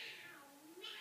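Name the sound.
child imitating a cat meowing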